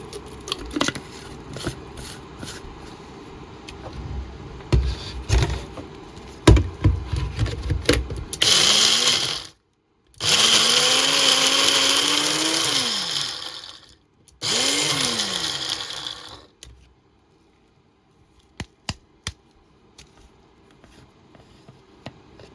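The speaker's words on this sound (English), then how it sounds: "so I'm going to blitz it up and see if there's any moisture left" Kitchen blender blitzing dried homemade tomato soup powder in three loud whirring bursts with rising and falling motor pitch, separated by short silences, amid quieter clatter of handling the jar before and after.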